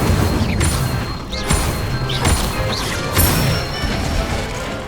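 Spells strike a training dummy in Hogwarts Legacy: a loud sequence of crashing impacts and bursts, three or four heavy hits with magical whooshes between them, close and forceful.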